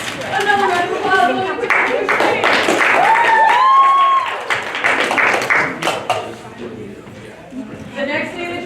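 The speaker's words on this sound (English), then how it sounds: "Another round of applause." Theatre audience at a live-streamed intensive showcase claps steadily, the applause mixed with voices and whoops, fairly close, thinning out toward the end.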